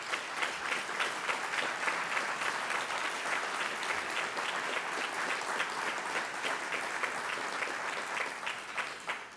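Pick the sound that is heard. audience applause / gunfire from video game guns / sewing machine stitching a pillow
audience applause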